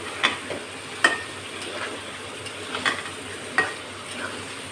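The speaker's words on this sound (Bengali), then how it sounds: "এখন আমি এর ভিতরে এই মাংসটা দিয়ে দেব, মাংসটা দিয়ে ভালো করে কষাইয়ে তারপরে আমি প্রেসার কুকারে দেব" Chicken pieces being kasha-fried in a pan with spices before pressure cooking, a soft steady sizzle broken by periodic spatula scrapes and taps, fairly quiet and close, no talking.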